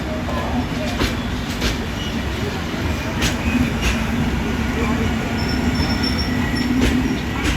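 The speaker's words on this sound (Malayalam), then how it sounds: "ഈ ട്രെയിൻ പോയി കഴിഞ്ഞിട്ടുണ്ടെങ്കിൽ നമുക്ക് പോകാൻ വേണ്ടി" Steady low rumble and rolling of a train passing at a railway crossing in Kozhikode, with faint wheel squeals and occasional clicks, continuous throughout.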